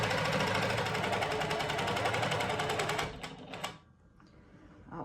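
A sewing machine stitches fast and steadily for about three seconds while tacking a pumpkin door hanger in place, its loud, even mechanical chatter then stopping and leaving a few light clicks.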